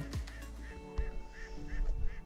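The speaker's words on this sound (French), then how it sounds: "j'avais un canard à 10 mètres qui papillonnait au-dessus des formes" A wild duck flies about ten metres away over hunting decoys, giving a rapid run of repeated quacks at a moderate distance, with low thumps and handling noise underneath.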